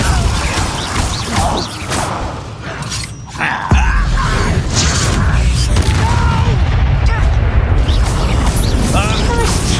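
A Depulsor spell cast in Hogwarts Legacy, a loud magical boom with crashing, whooshing impact sounds amid dense combat effects, then sustained rumbling noise.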